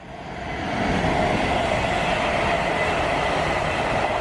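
A nearly empty passenger train rolls past a mainline station platform with a steady rumble that builds in the first second and then holds. The rattle of rail wheels stays loud and close, with no talk.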